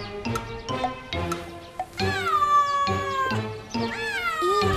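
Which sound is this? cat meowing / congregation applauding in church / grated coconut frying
cat meowing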